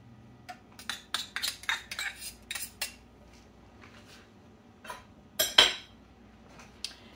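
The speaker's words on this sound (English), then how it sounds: "Now you're gonna dump in your peppers and your garlic." Peppers and garlic dropped into melted butter in a pan, heard as a series of clinks and scrapes of a utensil against the pan, with a louder clatter midway and no talking.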